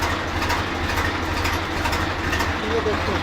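A tractor engine idles with a steady low diesel rumble, close and continuous, while someone speaks briefly over it.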